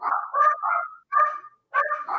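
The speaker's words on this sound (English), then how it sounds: "You get the dog bark of approval." A dog gives a run of close, loud barks in three clustered bursts with brief gaps, heard alone without voices.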